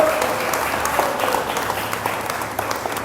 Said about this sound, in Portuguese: Quem pode aplaudir Jesus bem forte, Cristo?